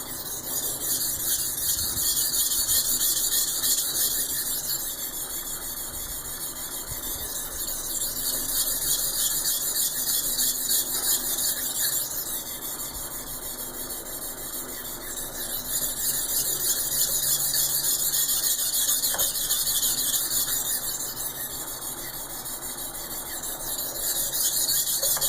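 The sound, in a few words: knife being sharpened, raising a burr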